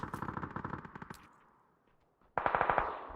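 Automatic gunfire in PUBG: a fast burst of rapid shots, a brief lull, then another loud burst, with no talking.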